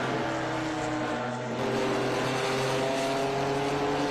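Ginetta race cars roar around Watkins Glen in a dense, continuous wall of engine noise, loud and sustained, with a brief dip before the pack's sound surges again.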